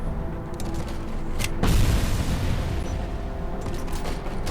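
Gunfire and a heavy booming blast in the video game Robocop Rogue City, with a few sharp shots leading into a loud low explosion that rumbles and fades, no talk over it.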